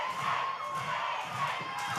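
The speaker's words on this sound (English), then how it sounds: "Listen to this crowd." Wrestling crowd at a ladder match cheering and chanting loudly, a dense, steady roar with rhythmic swells of voices throughout.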